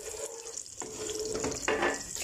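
Almonds and pomegranate seeds fry in a pan for saffron rice with a brief, close, steady sizzle and a couple of soft stirring scrapes.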